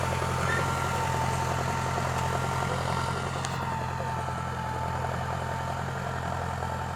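A Ford 77 farm tractor engine, used for hire plowing rice fields, runs at a steady low idle-like rumble, continuous and fairly close throughout with no talk.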